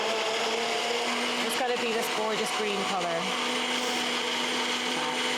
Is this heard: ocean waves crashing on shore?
no